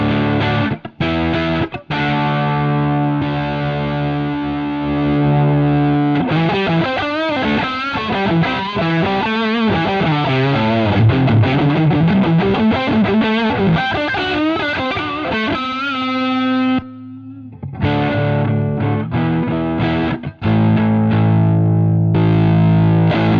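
Electric guitar played through a VS Audio Royal Flush overdrive pedal set on its low-gain side, giving a crunchy, distorted rhythm tone with sustained chords and moving riffs, loud and continuous with brief gaps.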